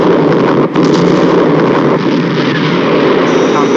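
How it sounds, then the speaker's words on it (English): A missile explosion from a vintage sci-fi movie trailer, heard as a loud, continuous rumbling blast with a brief dip near the start, filling the whole clip. "Our visual contact with explosion. Detonation positive."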